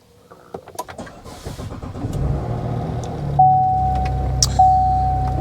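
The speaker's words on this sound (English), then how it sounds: "Let's just go ahead and cut the car on here." A car engine cranks and catches, rising to a steady idle with a chime sounding twice over the running motor, close by with no talk.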